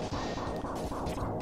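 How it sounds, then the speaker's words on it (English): In the SNES game Mega Man X, a sea dragon enemy makes a loud, repeating crunchy roar in rhythmic bursts over the game's busy background sound. "that sound you hear, that's another one of those fun little sea dragons"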